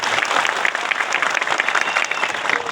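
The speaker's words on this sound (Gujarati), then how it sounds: "બધા માટે એકવાર આપણે જોરદાર તાળીઓ પાડી દઈએ" A crowd at an outdoor political rally at Haripura crossroads in Gujarat claps loudly and densely throughout, a close, continuous wash of hand claps with no speech over it.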